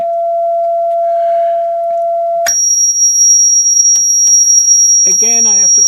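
Sine wave test tone from a signal generator played through an 8 watt MOSFET audio amplifier built with IRF530 and IRF9530 transistors: a steady mid pitch tone that abruptly jumps to a piercing high tone, with a brief voice near the end.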